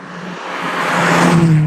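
Peugeot 206 GTI, a front-wheel-drive hatchback with a 140-horsepower rev-happy engine and close-ratio five-speed gearbox, droning steadily from inside while driving on a rural road, its engine note rising and growing louder toward the end.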